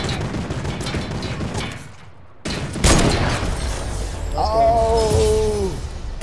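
Gunfire in a Fortnite match comes in a dense volley of shots, followed by a brief gap and then more loud bursts, with a tonal in-game effect sweeping through near the end.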